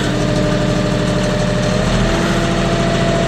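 A tractor engine runs at a steady drone while spreading pasture seed, a loud, even mechanical rumble with a constant low hum, no talk.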